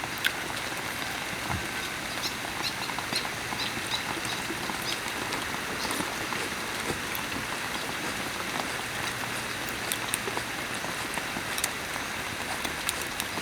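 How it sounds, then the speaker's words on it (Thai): Rain falls steadily on a surface, a continuous soft patter with occasional louder drops, lasting throughout with no voices. "เนี่ยฝนก็เริ่มตกเห็นเนาะ"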